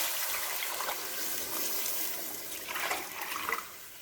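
Pea-cooking water being poured into a measuring cup for cooking rice, a steady splashing trickle throughout, fairly close, with no talking.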